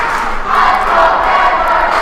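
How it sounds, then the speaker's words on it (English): Spectators in the stands at a high school volleyball game make a steady, loud crowd roar of cheering and shouting that holds throughout without a break. "Crowd up and pumped for this one."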